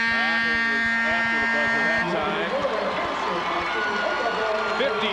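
A buzzer sounds at a 2003 girls' high school basketball third-place game in a gym: one sustained electronic tone lasting about two seconds, heard over crowd noise and a commentator's voice.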